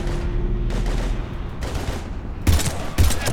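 Gunfire in a Mass Effect 3 battle on Mars against husks, a steady rattle of shots over a rumbling background that ends in two heavy, punchy bursts near the close.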